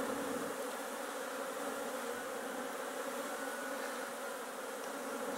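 Many bees hum in a dense, continuous drone at a hive in an apiary in February. The buzzing is steady and close, with no voices.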